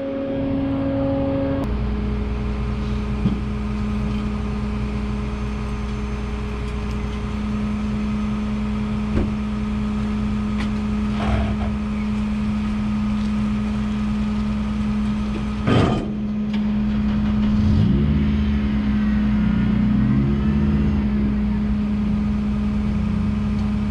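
Tow truck engine idling steadily close by with a constant low drone, a few clunks and creaks as it creeps forward slightly before setting a car down in a parking area.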